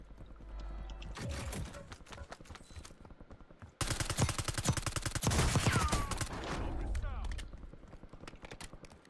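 Gunfire in a Call of Duty Warzone firefight: rapid automatic bursts, dense and loud through the middle, with scattered single shots before and after. Mechanical clatter sounds between the volleys.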